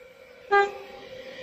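A single short, bright horn toot sounds from a Sydney V-set passenger train, brief and fairly close, over a low background rumble.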